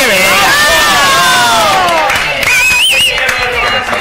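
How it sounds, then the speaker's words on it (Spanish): A television studio audience claps and cheers loudly, with excited voices and whoops rising over the crowd noise. "Aplauso para que venga."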